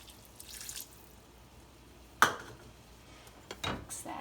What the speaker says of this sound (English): I put in about 1/2 cup of water to kind of give it a little bit of liquid